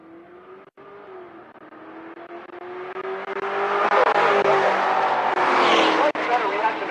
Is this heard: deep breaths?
no